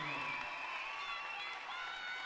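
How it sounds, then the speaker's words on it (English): Crowd applauding and cheering in a high school gym as a senior basketball player checks out of a boys' game, a steady sustained ovation throughout. "here comes the round of applause for Brady Worth"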